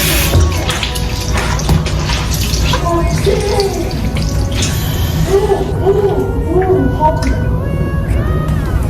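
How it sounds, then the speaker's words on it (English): Water from a tap runs steadily at a sink while someone rinses their face, a continuous close splashing wash that lasts throughout, with brief handling splashes over it. "Put some more water. Rinse it off."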